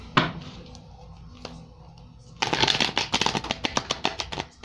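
Tarot cards being shuffled by hand: a single snap, a brief pause, then a rapid run of crisp riffling flicks and taps, close and fairly quiet, with no talking over it.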